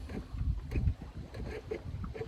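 Sailboat moving at about 4.5 knots under all plain sail in light seas with a light roll, giving uneven water swishes and wind buffeting against the hull and microphone, close and moderately loud.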